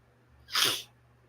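A single sharp sneeze, close and fairly loud, bursting out briefly against an otherwise quiet background.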